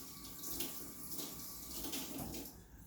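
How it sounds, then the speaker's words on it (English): Tap water runs steadily into a sink while a fishing knife blade is rinsed during steelhead trout filleting, a continuous broadband splash with no talk. "I'm going to wash it off just to make sure I don't have any stuff on my blade"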